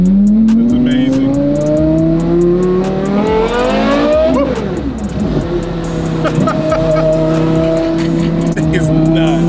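A Porsche Carrera GT hypercar with a manual gearbox revs and rumbles nearby, engine tone climbing, dropping sharply at a shift, then settling into a deep steady drone, with people talking excitedly over it.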